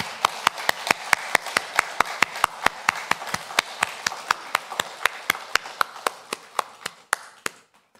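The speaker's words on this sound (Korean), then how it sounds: "힘찬 박수로 영원 돌리겠습니다." A church congregation claps in praise after a choir's hymn during a Sunday service, a brisk, even run of sharp claps that slowly thins out and stops near the end.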